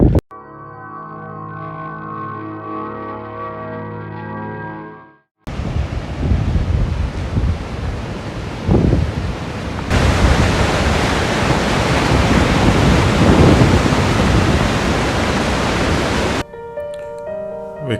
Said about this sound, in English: We cross the first of many mountain streams, taking glacial water and flowing downwards to meet the Pin River